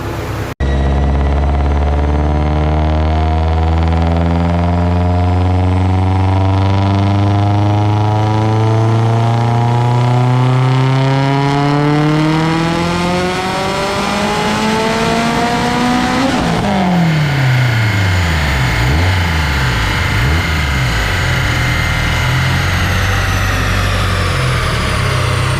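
Turbocharged 2013 Subaru STI with a Precision 6266 Gen2 turbo running on a dyno, a loud, close, sustained pull climbing steadily in pitch for about sixteen seconds, then dropping off and burbling down.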